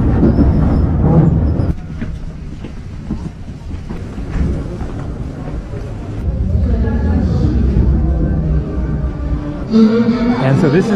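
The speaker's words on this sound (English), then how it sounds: "this is the Didobe metro station" Metro train rumbling through Didube metro station in Tbilisi, Georgia, a loud continuous low roar with clattering that swells and fades over several seconds, with voices and station bustle mixed in.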